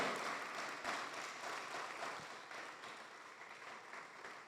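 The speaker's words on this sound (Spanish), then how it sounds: "Un fuerte aplauso." Congregation in a church service breaks into applause, a dense, continuous wash of clapping that holds steady for several seconds at moderate distance, with no voices standing out.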